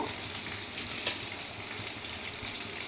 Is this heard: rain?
no